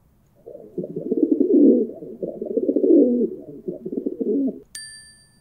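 A pigeon coos nearby in a soft, low, throaty run of rolling calls lasting a few seconds, followed by a short bright chime.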